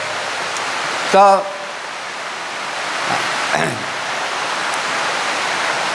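Heavy rain makes a steady, loud wash of noise across an outdoor gathering, and someone briefly speaks over the constant downpour.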